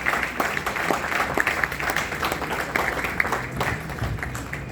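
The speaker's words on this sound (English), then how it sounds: "Can we have a huge round of applause for our honorable chief guest?" An audience at an international IEEE conference at Amity University applauds the chief guest, steady clapping sustained throughout at moderate loudness in a hall.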